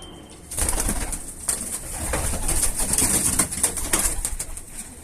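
Pigeons coo steadily in a coop built inside a kitchen. The layered, throaty calls are close and fairly loud over a rough background rustle.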